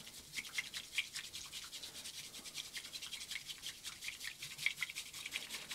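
Matcha tea is whisked by hand in a bowl, making a quick, steady, scratchy brushing rhythm as froth builds. The sound is close and fairly soft, with no talking.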